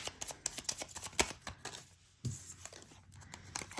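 Tarot cards are shuffled by hand in quick, papery riffles and taps, a run of close, crisp bursts that briefly pauses midway and then resumes, with no talking.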